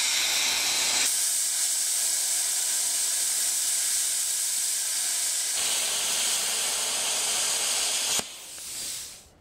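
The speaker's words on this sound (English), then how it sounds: "I'm going to plasma cut this hole" A plasma cutter slicing a hole through metal gives a loud, steady, broadband hiss that runs for about eight seconds. It drops off abruptly at the end, with a brief tail of sputtering air.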